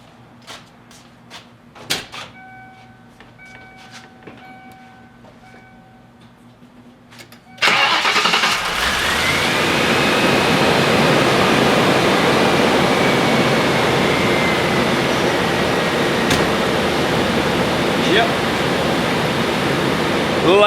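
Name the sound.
1994 Lincoln Town Car engine running after MAF sensor replacement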